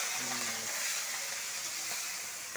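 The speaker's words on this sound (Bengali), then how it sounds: "ভাজা হচ্ছে, চিংড়ি মাছ থেকে নুন হলুদ দিয়ে পাঁচ ফোড়ন দিয়ে ভাজা হচ্ছে।" Prawns seasoned with salt and turmeric fry in hot oil with panch phoron and bay leaf, giving a steady, close, even sizzling hiss that runs unbroken throughout.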